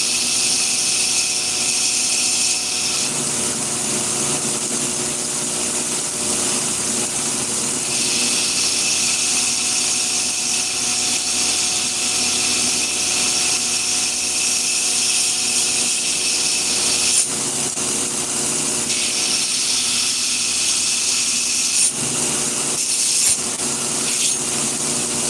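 A grinder profile-grinding knife blades, working from the spine toward the tip: a loud, continuous abrasive hiss and whine with a constant motor hum, shifting in pitch as the metal presses against the belt, with no speech.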